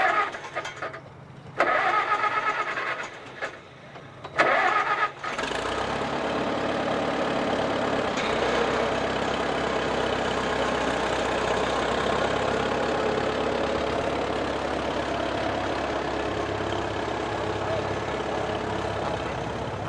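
An antique tractor engine at a tractor show cranks over in a few short bursts, then catches and settles into a steady, loud, rumbling idle that runs on close by.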